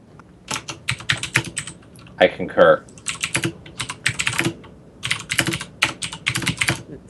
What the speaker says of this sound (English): This actually isn't my keyboard, but it's just as mechanical. But I've had my very loud keyboard since April.